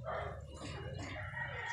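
Puppies bark and yip in a brief, busy tangle, fairly quiet and a little distant.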